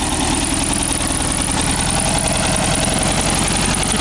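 A 1968 Volkswagen Beetle engine runs steadily after a cold start, a loud, close, continuous clattering idle with a rough, uneven knock that suggests a dead cylinder.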